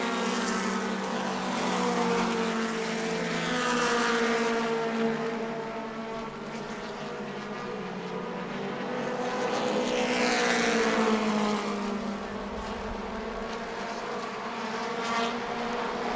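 Several Mod Mini race cars roar around an oval track at New Smyrna, their engine drone rising and falling as the pack passes at a distance.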